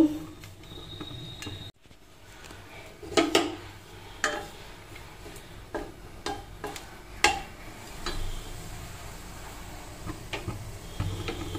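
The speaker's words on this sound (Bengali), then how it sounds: "তো এবার যেটা করব, তেলের মধ্যে লঙ্কাটা দেব।" Green chilli dropped into hot oil in a kadai, with curry leaves, tomato and mustard seeds set nearby: a soft, faint sizzle broken by several sharp clinks and stirring taps from a utensil against the pan.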